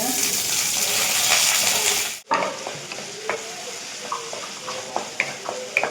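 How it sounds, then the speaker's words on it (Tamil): Onion, garlic and curry leaves frying in a pan give a loud, steady sizzle with stirring scrapes, then cut off abruptly and return as quieter crackles and spatters. "ஸோ ஃபர்ஸ்ட் நான் வெங்காயமும் பூண்டு கருவேப்பிலை ஆட் பண்ணிக்கிறேன்."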